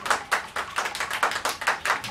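Audience at a Grand Boost Championship beatbox battle clapping in a quick, steady rhythm of sharp, bright hand claps, loud and close, with no talk over it.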